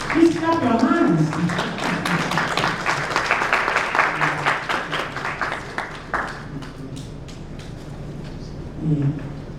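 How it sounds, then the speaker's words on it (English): Audience applause at the launch of an endowment trust, a dense run of hand claps that swells early and thins out over about ten seconds, with a voice speaking briefly at the start and again near the end. "Please clap your hands."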